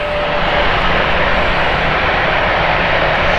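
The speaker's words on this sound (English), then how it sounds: "JetBlue flight here with the Boston flight, Airbus A321 Neo." A JetBlue Airbus A321neo departs Gatwick for Boston, its engines a loud, steady broadband roar held at near-constant level throughout, with no voices.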